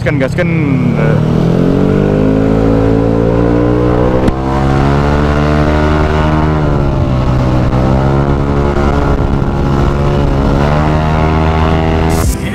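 A Yamaha Aerox motor scooter engine, 192cc, revs loudly and steadily up close, its pitch rising and falling with the throttle for several seconds.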